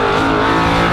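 V8 race car engines roar loud and close at Snetterton circuit during a USA 300 race meeting, a brief continuous blast of engine noise.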